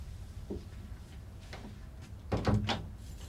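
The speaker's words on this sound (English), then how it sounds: "Close the door." Door closing in an office in a 1994 police drama: a soft thud and a louder knock of the door shutting near the end, set against a quiet room.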